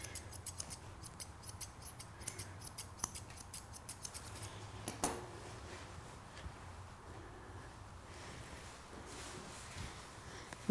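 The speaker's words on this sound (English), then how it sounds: "This just helps my scissors glide through the coat and get more of a pristine finish." Grooming scissors snip through a Bichon Frisé's coat during a show trim, giving a rapid run of crisp, close metallic clicks early on, then sparser, quieter snips with no talking.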